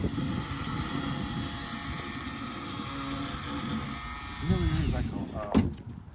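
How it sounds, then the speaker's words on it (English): An electric sander runs with a steady, coarse buzzing drone throughout, close by, with voices and a few knocks breaking in near the end. "let's get this sander out"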